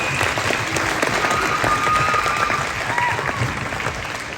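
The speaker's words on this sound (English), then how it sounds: "a big round of applause for them" An audience at the Juneau Jazz Festival gives a sustained round of applause, dense steady clapping throughout with crowd noise mixed in.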